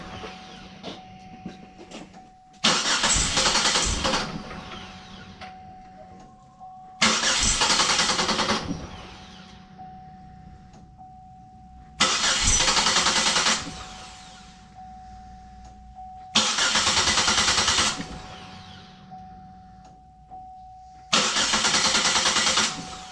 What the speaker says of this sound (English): in a good position to start it and see if we have a leak